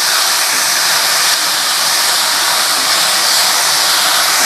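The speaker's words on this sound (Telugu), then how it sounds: "ఇదిగోండి, ఇలా నూనెలో మగ్గించుకోవాలి. ఇలాగా చక్కగా నూనెలో మగ్గిపోద్ది." Mint leaves sizzling in hot oil in a pan while being cooked down for a coriander-mint chutney, a loud, steady, close hiss that holds unbroken throughout with no voices.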